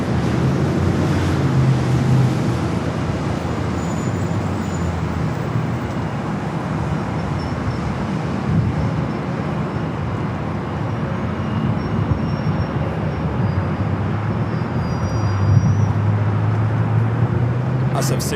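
An airliner at Los Angeles International Airport, a flight bound for Osaka, produces a loud, unbroken jet roar with a deep rumble that holds steady from start to finish.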